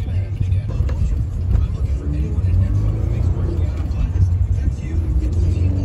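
Steady engine rumble and road noise inside a manual-transmission car on a car-shopping test drive, a continuous loud drone with no clear gear changes.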